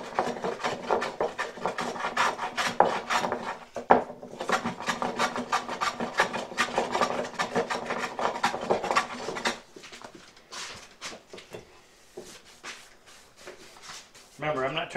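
A hand plane rasps across a wide wooden board in quick, repeated strokes, close and steady, then the strokes thin out into lighter, sparser scrapes near the end.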